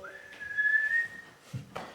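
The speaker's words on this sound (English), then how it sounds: "The whistle blows." A single sustained whistle blast in a staged reading, a thin steady tone lasting about a second, fairly faint over a quiet room.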